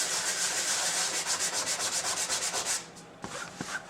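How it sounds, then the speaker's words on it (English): Hand sanding on red heart wood from a bandsaw box, rapid rhythmic back-and-forth strokes of sandpaper close up for nearly three seconds, then a pause with a few light scrapes and taps. "I'm going to take this over to the sandpaper and just gently sand it off."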